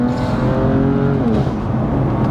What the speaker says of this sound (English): I'm going to accelerate up to 50,